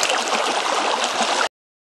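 Creek water flowing on open ranch land, a steady, full rushing and gurgling close by, constant in level and alone, then cutting off abruptly.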